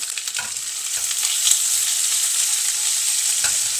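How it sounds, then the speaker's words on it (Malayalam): Thinly sliced onions dropped into hot oil with urad dal, mustard seeds and cumin for a tendli masala, hissing in a loud, steady sizzle with a few stir clicks, close up, with no speech. "എണ്ണ ചൂടാകുന്ന ഉടനെ ഉഴുന്ന് പരിപ്പ് കടുക് അതുപോലെ തന്നെ ഇച്ചിരി ജീരകം അതിലേക്ക് കട്ടി കുറഞ്ഞ് അരിഞ്ഞു വെച്ചിരിക്കുന്ന സവാള ഇടാം"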